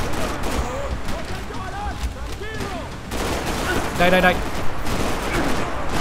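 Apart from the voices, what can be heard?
gunfire in the video game Max Payne 3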